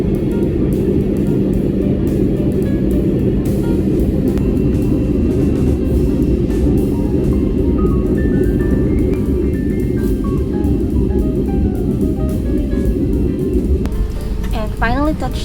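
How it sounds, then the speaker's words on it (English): Steady loud engine roar and cabin rumble fill a plane touching down at Changi Airport in Singapore, a constant droning wash with faint higher whine, heard from inside throughout with a brief chirp near the end. "And finally touched down to Changi Airport or Singapore."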